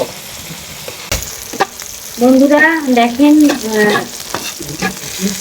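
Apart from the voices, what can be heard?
meat frying with chili and garlic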